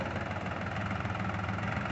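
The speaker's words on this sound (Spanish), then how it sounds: "Le vamos a acelerar poquito." A three-cylinder New Holland TT3.50 FWD tractor engine runs close by with a steady, rough diesel drone and slight knock, held at an even, moderate level.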